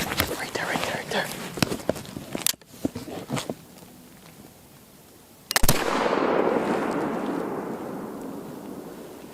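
A flintlock rifle fired at a deer on a snowy public-land hunt, a sharp loud blast followed by a long rolling boom that fades over several seconds, preceded by whispered talk and a few soft knocks nearby.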